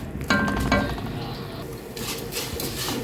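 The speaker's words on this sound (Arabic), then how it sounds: "انا بقلب في الشعريه اهي عشان خاطر تصفر" Vermicelli frying in a pan for Egyptian koshari, stirred with a utensil: a steady close sizzle with a couple of metallic scrapes and clinks near the start, then continuous frying hiss.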